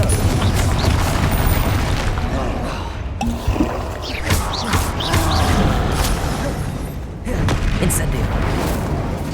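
Deep, booming blasts from a Confringo explosive spell roll through a Hogwarts Legacy fight on hard difficulty, loud and close amid constant combat noise, with a sudden gap in the din partway through and a fresh blast near the end.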